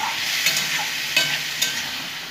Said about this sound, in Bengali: আরও আমি নাড়াচাড়া করে নেব